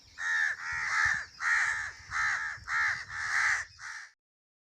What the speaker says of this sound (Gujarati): કાગડો કેવું બોલે?